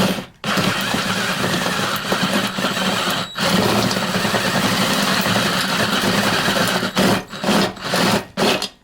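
A step drill bit bores through a Husqvarna 572 XP chainsaw muffler, a loud continuous grinding whir with brief pauses and stuttering bursts toward the end.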